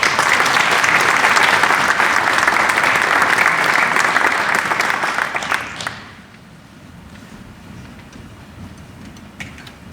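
An audience claps for scholarship recipients at a Finnish sports club's 80th anniversary celebration, loud dense applause that fades sharply after about six seconds into scattered quieter claps.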